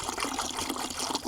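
Water is poured into a container to make a bath for 32% muriatic acid during the restoration of a 65 kg German blacksmith vise, giving a close, steady splashing gush with no talking.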